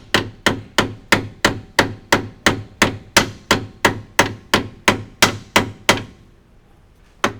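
A hammer strikes a metal lock plate on a BMW tie rod, flattening its sides, about fifteen times in a steady, even rhythm, each blow sharp and ringing close by, then stops and leaves quiet.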